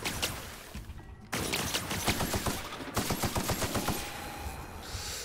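Powerful gun in The Outer Worlds firing rapid bursts, loud dense volleys of shots with a brief gap, then a steady fast stream of reports trailing into reverberant noise.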